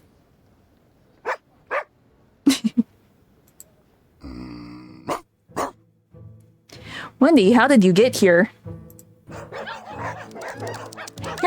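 Excited barking from Wendy, a dog in the video game Reverse: 1999, coming in short separate yips and barks with whimpering bursts, alongside game music and a spoken line.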